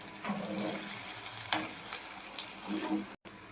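Water is poured into a pan of banana flower curry as it cooks, giving a steady sizzling, bubbling hiss that swells and fades over a few seconds, close and fairly loud.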